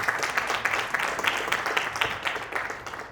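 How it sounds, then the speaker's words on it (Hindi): Applause from an audience at a public event in Raigarh, a fairly steady wash of many hands clapping at moderate loudness throughout the short stretch, with no talking over it. "जोरदार तालियां बजाएं।"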